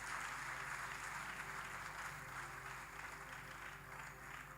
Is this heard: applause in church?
yes